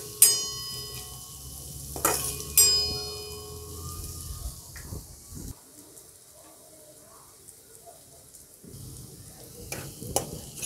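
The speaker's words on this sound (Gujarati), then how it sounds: "કાંદાને બરાબર મિક્સ કરી લઈશું અને કાંદાને પણ આપણે થોડી વાર માટે ચડવા દઈશું" Chopped onions fry and get stirred in a pan after a spice paste has been sautéed, with sharp scraping strokes near the start and a soft sizzle underneath, then a quieter stretch before more stirring at the end.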